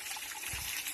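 Water trickling from a gutter-like spout at a small waterfall, a steady broadband splash and dribble running throughout the second, with a soft low-end surge near the middle and no talk over it.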